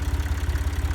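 A hay-baling tractor idles steadily in first gear low range, a close, low engine rumble with a fast, even pulsing throb and no voices.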